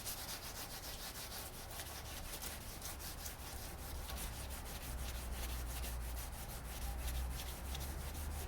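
Steady rhythmic scraping of sandpaper rubbed back and forth by hand on a car wheel liner, close and continuous, with a low hum underneath.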